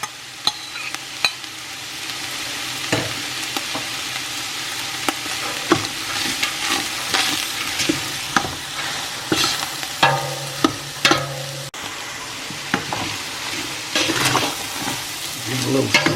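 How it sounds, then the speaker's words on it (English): Red and green peppers stir-fried in a pan, giving a continuous sizzle broken by frequent scraping and clattering strokes of a utensil, loud and close, with a brief low tone near the end. "Give it a little stir."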